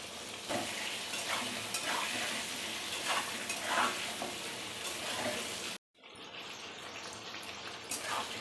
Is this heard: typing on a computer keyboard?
no